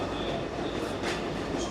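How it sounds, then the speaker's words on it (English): Lehigh Scenic Railway passenger train riding along, a steady close rumble of the rail car with faint rolling wheel noise throughout, no talk. "Good day for a train ride."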